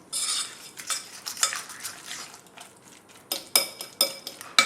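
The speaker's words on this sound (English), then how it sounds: "Stirring this around." A spoon stirs diced bacon into a thick cream cheese mixture in a bowl, giving soft scraping swishes and sharp clinks against the dish in irregular bursts, close and fairly quiet.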